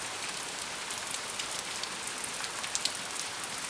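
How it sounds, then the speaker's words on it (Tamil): Heavy rain falls steadily in an animated story, a dense, even hiss of drops on surfaces with a few sharper splashes, close and continuous throughout. "கொஞ்ச நேரத்துல நல்லா மழை பிடிக்க ஆரம்பிச்சது"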